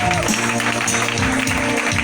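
A church congregation applauding and cheering God during a worship service, a steady wash of clapping blended with sustained music and voices.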